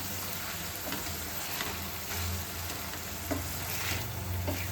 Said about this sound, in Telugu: ఇప్పుడు నేను ఉడకబెట్టుకున్న పచ్చిరేలు వేసుకుంటున్నానండి. ఒకసారి కలుపుకోవాలండి వీటిని అల్లం పట్టేలాగా.